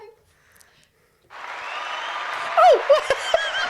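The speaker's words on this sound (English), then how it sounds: "You giving yourself a clap?" One person claps for themselves during a podcast recording, a short burst of hand claps mixed with laughter and voices.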